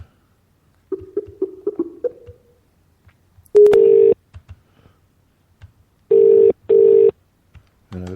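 A landline phone dials a string of numbers from a phone book in quick beeping tones, then plays loud, steady electronic ringing or busy tones in repeated bursts, alone with no talking.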